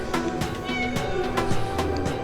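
A stray cat in Djerba, Tunisia meows a few times in short, rising cries, fairly close, over a quiet room background with no talking.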